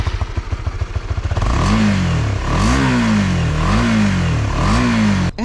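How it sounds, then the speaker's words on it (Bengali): A 2021 Honda CBR 150R with its exhaust pipe cut and pushed inside idles with a throbby pulse, then revs up sharply four times in a row, each rev climbing and falling back. It is loud and close, with no talk. "আমি এক্সস্টের পাইপটা একটু কেটে নিয়েছি, ভিতরে ঢুকিয়ে দিয়েছি, এই জন্য সাউন্ডটা একটু লাউড সাউন্ড হয়"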